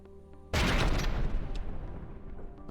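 Weapons fire in the naval combat game From the Depths: a sudden loud burst of gunfire about half a second in, then a dense rumbling barrage of shots and booms that slowly fades while it keeps going.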